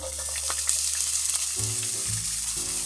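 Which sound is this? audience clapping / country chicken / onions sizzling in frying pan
onions sizzling in frying pan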